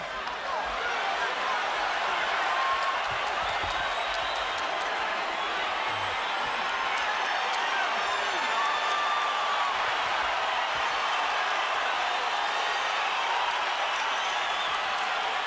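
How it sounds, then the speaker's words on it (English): Boxing arena crowd in a dense, steady roar with scattered cheers and claps, loud and sustained throughout, a commentator's voice faintly mixed in during a Shane Mosley vs. Sergio Mora fight. "I'm trying to figure out why the crowd is excited."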